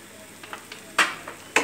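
Chili potato frying after arrowroot paste is added, with faint sizzling building into a couple of sharp hissing bursts as the pan is stirred, no voices.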